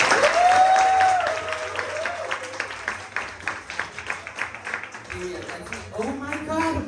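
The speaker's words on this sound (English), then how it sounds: "Clap for the bathroom break." A drag show audience at a bar applauds in a steady burst of clapping during a bathroom break, with loud voices and chatter over and under the claps.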